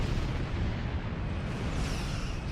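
Star Trek Online starship firing a high yield torpedo volley: a dense, continuous low rumbling roar of weapon blasts, steady and loud throughout with no distinct separate hits.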